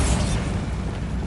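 Bombarda blasting spell detonating in Hogwarts Legacy, a single loud, broadband explosion with a sharp burst of debris at the start that rolls into a sustained rumbling roar, close and dense, with no voices.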